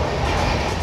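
A train rolls along the rails past Dakshineswar station, a steady, loud, continuous rumble with faint clattering throughout and no voices.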